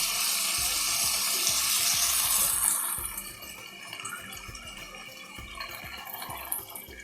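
Half a cup of water hits a hot pan of roasted semolina while making khara bath, a loud hissing, bubbling rush for a few seconds that then settles into a quieter, steady sizzle.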